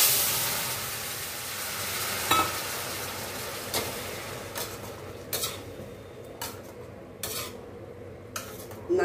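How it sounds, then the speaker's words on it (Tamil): A spoon stirs mango, brinjal and drumstick kootu into a pan of hot tempering, with soft sizzling and a faint hiss under scattered metallic clinks against the pan, close up and with no talking. "வெடிச்சோன்னா நம்ம இந்த கூட்டை சேர்த்துக்கலாம், மாங்காய், கத்திரிக்காய், முருங்கைக்காய் கூட்டை சேர்த்துக்கலாம்."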